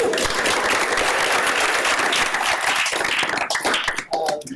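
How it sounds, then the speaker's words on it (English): Steady, dense applause from a crowd fills the room, many hands clapping together before it thins out near the end. "Can we get a big round of applause?"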